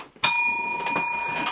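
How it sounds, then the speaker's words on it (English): One bright notification-bell ding, like a small bicycle bell, rings out clearly and holds a sustained metallic tone that slowly fades, with no voices over it. "then you'll need to turn on the bell"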